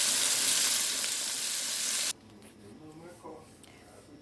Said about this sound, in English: continue to let that fry